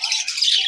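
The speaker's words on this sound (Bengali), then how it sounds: "ভালো ভালো কবুতর আছে হাই ফ্লাইং।" High-flying pigeons at a bird seller's give off a brief, continuous burst of bright, squawking calls, fairly close and loud, with no talking.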